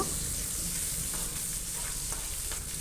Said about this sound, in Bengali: তো আমি সুটকিগুলো দিয়ে একটু ভেজে নেব